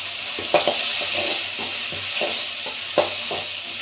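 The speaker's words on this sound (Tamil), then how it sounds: "அதில் வந்து நாம் எடுத்து வச்சுருக்கிற பொடிகளை கீழே போட்டுக்கலாம்" Spice powders dropped into hot oil for egg rice give a dense steady sizzle, with a spoon stirring and knocking against the pan at irregular intervals, close up and with no talking.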